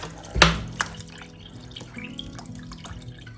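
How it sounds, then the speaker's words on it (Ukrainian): Drinking water pours briefly into a bowl with a splash near the start, then trickles and drips softly, close and fairly quiet. "Воду додаю питну."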